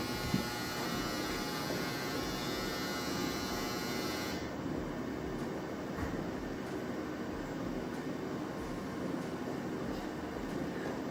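A home clothes dryer runs with a steady, loud whirring drone and low hum, continuous and unbroken throughout, with a high hiss that drops away partway through.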